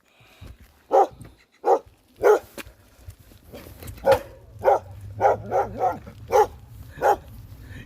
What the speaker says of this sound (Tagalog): Ganda ng dalawang aso to.